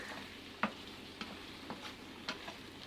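Tofu pieces fry in a pan with a faint, steady sizzle and a few soft ticks and pops, quiet and close.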